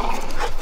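A dog makes a short, close, loud vocal sound outdoors, which may be a bark or a whine, lasting under a second with no speech.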